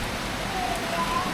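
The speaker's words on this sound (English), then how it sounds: "when it rains like this" Steady rain falling in Africa, a dense, even hiss of drops on surfaces that stays close and constant throughout without any other sound.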